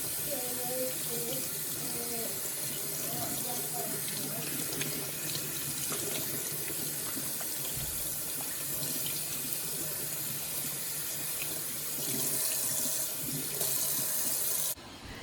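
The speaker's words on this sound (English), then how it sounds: "Next, we're gonna go in and wash our potatoes." Tap water runs steadily into a sink as sweet potatoes are washed underneath, a constant splashing rush that swells briefly near the end before cutting off.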